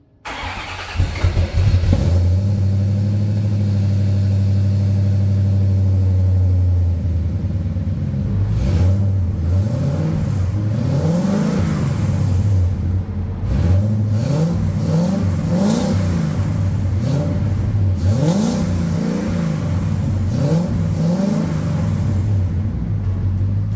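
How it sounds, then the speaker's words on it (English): A Corvette C4 ZR1 engine cranks on a cold start and fires up, settling into a loud, deep idle, then revs repeatedly with a raspy rumble through a full header-back stainless exhaust, close by. "listen to our first cold start on our C4 ZR1 with a full header back stainless works exhaust system"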